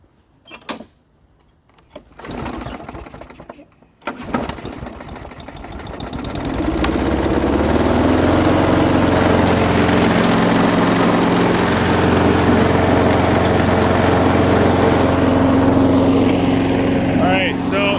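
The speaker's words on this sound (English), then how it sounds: "Now let's see if it'll start." A lawn mower engine, freshly sprayed with carb cleaner, sputters and fails to catch a couple of times, then roars to life and runs steadily at a loud, constant drone.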